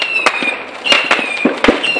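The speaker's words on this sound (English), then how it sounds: "all of those are from the Warren firework" Fireworks from a distant New Year display burst repeatedly in a loose, irregular rhythm, with sharp cracking reports and fizzing trails, moderately loud outdoors.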